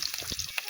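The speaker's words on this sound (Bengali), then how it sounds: "এখানে দিয়ে দিলাম সাদা তেল আর পেঁয়াজ দিয়ে দিলাম। এগুলোকে ভালোভাবে ভেজে নেব।" Onions frying in white oil in a hot pan, a steady broad sizzle with faint stirring bumps, close and continuous over a short moment.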